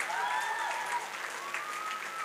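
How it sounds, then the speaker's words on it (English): An audience at a tech summit talk applauds for a programs manager, a dense, even wash of many hands clapping throughout, with faint tonal whoops or voices riding over it. "Please, a round of applause for her, please."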